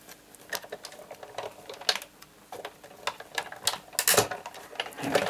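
Card stock and a metal die cranked through a manual die-cutting machine, giving a run of irregular mechanical clicks and ratcheting creaks at close range, with no talk.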